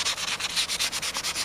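Bondo body filler on a car panel being hand-sanded in rapid back-and-forth strokes, a close, rhythmic rasping scrub repeating about eight times in quick succession.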